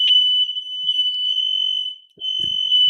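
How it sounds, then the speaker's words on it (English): A smoke detector alarm gives a continuous, piercing high-pitched tone that drops out briefly near the end, with faint background noises at a distance. "got all the alarms going off over there. Cell phones, smoke detectors."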